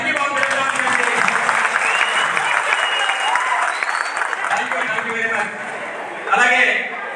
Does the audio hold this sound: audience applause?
yes